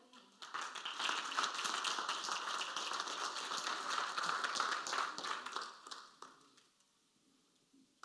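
Congregation clapping in a church service, a dense, steady wash of applause from many hands that swells quickly, holds for several seconds, then fades away into quiet near the end.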